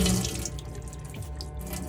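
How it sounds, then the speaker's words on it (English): Cold water runs from the sink tap of an Adria Coral 572 motorhome, a short, steady, close rush of flowing water with no talking. "so we've got water coming through on the cold side"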